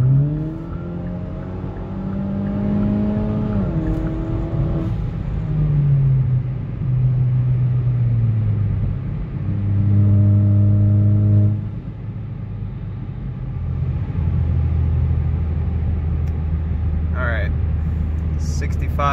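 Turbocharged Hyundai Elantra GT with an aFe axle-back exhaust, heard from inside as its engine drone climbs steadily in pitch through several pulls, dropping back at each gear change, loud and continuous.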